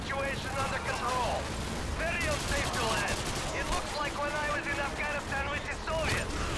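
Gunfire in Call of Duty MW2 crackles as dense, continuous volleys over a busy battlefield din, with rhythmic clustered shots throughout and a voice talking over it in places.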